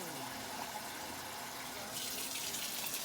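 Hot water runs steadily from a kitchen tap, a continuous hissing gush that grows brighter and stronger partway through, heard close up with no talking.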